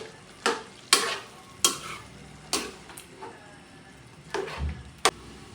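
Pork stew with potatoes and chili, simmering in a pot, stirred with a utensil in six or seven distinct scraping strokes that come in irregular bursts over a quiet bubbling background, with no voices.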